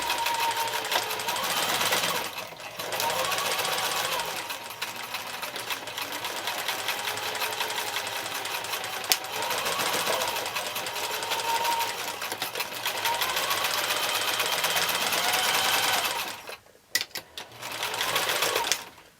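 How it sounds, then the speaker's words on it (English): A sewing machine runs in long, steady bursts of rapid mechanical stitching on a key ring strap, pausing briefly twice before starting up again, close and fairly loud. "if you're familiar with your sewing machine, is that you could just zigzag stitch this"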